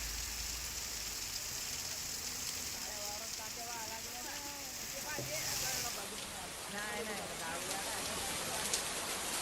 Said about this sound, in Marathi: या ठिकाणी मोठ्या प्रमाणामध्ये पाऊस सुरू आहे, मुसळधार पाऊस सुरू आहे